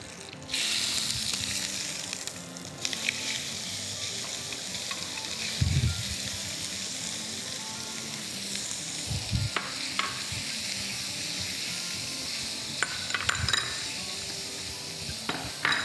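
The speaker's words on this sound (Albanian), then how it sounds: "do të filloj të kaurdis mishin, 300 gram mish të grirë" Three hundred grams of minced meat fry in a pan, a continuous bright sizzle with occasional scrapes and knocks of a utensil against the pan, no voices.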